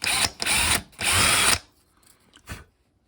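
A power drill bores holes through an antler button in two long loud bursts, then a short fainter whir after a pause.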